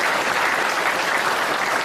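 An audience applauding, with dense, steady clapping from many hands heard loud and close throughout, with no break or fade.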